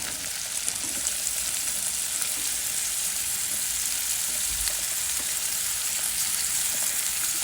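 Papaya fries in oil as a steady, dense hiss of sizzling, even and unbroken throughout with hardly any stirring sounds, close by and without speech.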